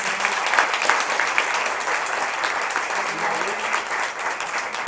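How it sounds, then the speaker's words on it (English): Audience at a League of Women Voters candidates forum applauds steadily, a dense, sustained clapping from a room of people that stays loud and even for about five seconds. "Let's give a round of applause to all our commissioners."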